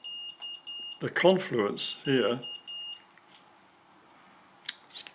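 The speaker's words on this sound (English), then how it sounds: "Excuse my phone making noises." A phone gives off a few high electronic notification beeps, short tonal pulses near speech at the start and again briefly at the end, while someone talks outdoors.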